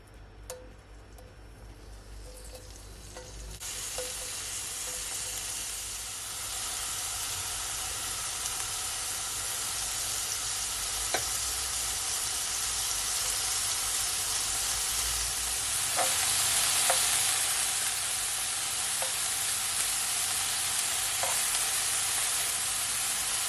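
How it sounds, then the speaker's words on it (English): Bacon frying in olive oil in a pot gives a steady, fairly loud sizzle that swells after the first few seconds, with scattered pops and small ticks running throughout. "So now I'm gonna add my bacon, okay? I just want to fry them until they're nice and brown."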